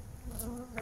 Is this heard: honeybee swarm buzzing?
yes